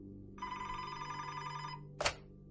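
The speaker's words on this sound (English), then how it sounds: "Just then, Montano's phone rang" A telephone bell rings in a steady, continuous burst that stops abruptly, followed by a short sharp click or clunk, heard alone against a quiet background hum.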